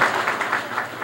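Audience applause in a hall, steady rhythmic clapping of a crowd, fairly close and brief, with no voices over it.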